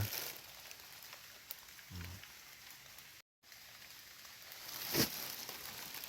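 Light rain patters steadily in a mushroom forest, a soft, faint hiss with scattered drops and a brief gap in the middle.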